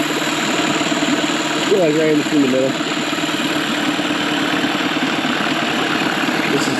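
A worn two-stroke outboard boat engine idles steadily with a buzzing mid-pitched drone, its speed rising slightly as the throttle shifts, while someone talks over it close by.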